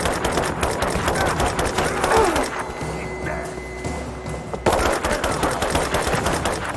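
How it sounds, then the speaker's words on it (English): Rapid automatic gunfire from a Tomb Raider firefight, dense bursts of shots and loud, continuous, with a brief lull in the middle before the shooting resumes. "Open fire!"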